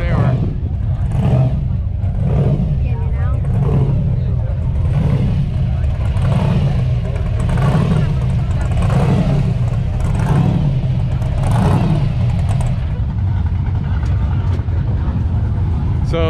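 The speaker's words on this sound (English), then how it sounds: "The Outlaw cars are all started up, and hopefully we will catch them as they go out." Outlaw class race cars with blown engines at the Daytona Turkey Run paddock, engines loudly rumbling and revving in repeated surges as the cars drive out, with speech mixed into the steady engine roar.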